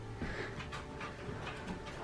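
Dogs nosing around a baby nursery: faint, quick sniffs and soft panting breaths repeat in a rough rhythm close to the microphone in a quiet room, with no talking.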